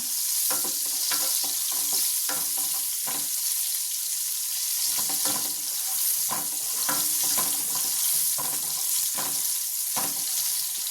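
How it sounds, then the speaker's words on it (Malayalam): Chopped spring onion whites and garlic sauté in a pan, a continuous bright sizzle broken by repeated scraping and stirring strokes in an uneven rhythm, close and fairly loud. "അതും വെളുത്തുള്ളിൻ്റെ കൂടെ നിന്നിട്ടിട്ട് ഒന്ന് വഴറ്റിയെടുക്കുക."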